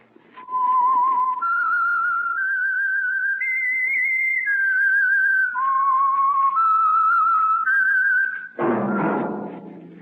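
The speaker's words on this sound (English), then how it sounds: "That whistle is your signal for the signal oil program, The Whistler." The signal whistle of The Whistler mystery program: a clear whistled tune of about a dozen steady notes rises and falls, ending with a sudden dull thud.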